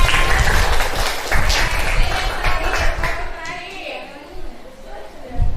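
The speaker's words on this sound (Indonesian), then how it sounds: "Tepuk tangan." An audience at a classroom training session applauds, loud clapping mixed with chatter and voices that thins out and fades toward the end, with a brief burst again at the close.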